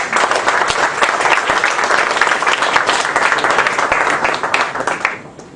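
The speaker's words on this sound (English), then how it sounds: "Can we give them a round of applause?" Loud, dense applause fills a conference hall at the International Volunteer Day 2011 Bayanihan Conference as the crowd honours the volunteers. The clapping is sustained and close, then tapers off at the very end.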